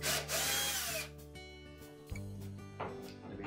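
A power drill backs out small Phillips screws from a Kenmore dryer door panel, giving short whirring bursts that rise and stop, then spin again close up, with faint clicks between.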